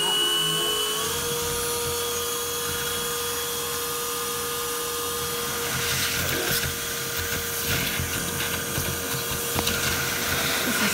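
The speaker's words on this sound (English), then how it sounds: "that crevice tool off, and just use the hose." A vacuum cleaner with a bare hose, crevice tool removed, used to collect bees, running as a steady close whine and drone with shifting airflow noise, no speech.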